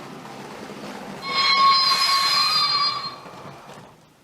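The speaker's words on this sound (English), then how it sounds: "that is the braking sound effect." A loud, steady whistling hiss with bright tonal overtones rises suddenly, holds for about two seconds, then fades out: the braking sound effect of a Lego City Passenger Train 60197.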